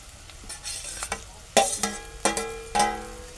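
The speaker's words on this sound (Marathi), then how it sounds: "आता आपण ह्याच्यामध्ये जे टोमॅटो आहेत ते आपण ह्याच्यामध्ये ॲड करूया" Chopped tomatoes stirred in a hot pan, several loud metallic clanks and scrapes of a spoon against the pan over a low background sizzle, spaced unevenly.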